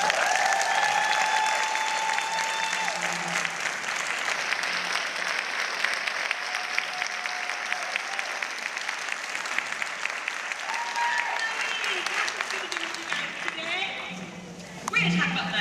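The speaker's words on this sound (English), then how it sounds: "So please, round of applause for Shari Hudspeth." An audience applauds as a speaker is introduced, steady clapping from the crowd that carries on for about fifteen seconds with a few voices and cheers rising over it before fading near the end.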